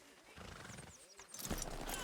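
A horse in the video game Red Dead Redemption 2 whinnies with a rising and falling neigh, and hooves clop close by while people talk.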